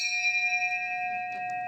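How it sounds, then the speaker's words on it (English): A small hand bell is struck once and rings with a clear, sustained metallic tone that wavers at first and then slowly fades, close and alone. "I just brought this little bell from home just to give you a memory of this."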